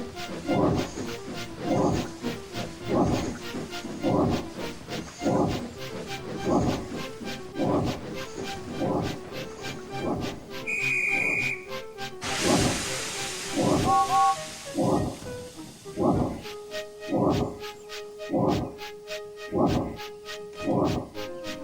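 A steam locomotive chuffs in a steady rhythm, then releases a long loud hiss of steam, a whistle sounding before the chuffing resumes.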